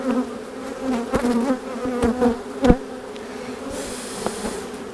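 Honey bees from a transferred swarm buzz in a close, dense drone while an outdoor hive is opened for inspection, with a few soft knocks and thumps from handling the frames.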